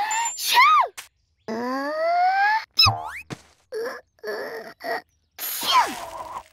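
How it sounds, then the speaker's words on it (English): A series of short, exaggerated cartoon-like vocal bursts and sneezes, loud and close, separated by brief silences, with gasps and squeaky whoops between them. "Every time we start the game, we sneeze."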